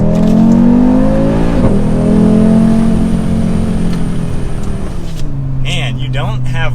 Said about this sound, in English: when you take into consideration the 5-cylinder engine with the unique sound